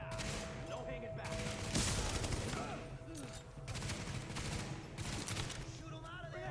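Rapid bursts of gunfire from the video game Tom Clancy's The Division fill the clip, dense overlapping shots and volleys continuing throughout with shouted voices mixed in.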